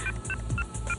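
Cartoon mobile phone keypad being dialed, a quick run of bright electronic touch-tone beeps in a steady rhythm, clear and moderately quiet with no talk over them.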